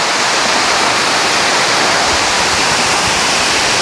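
Water from Thusharagiri waterfall in Calicut pours over large rocks, a loud, close, constant roar of rushing water with no speech over it.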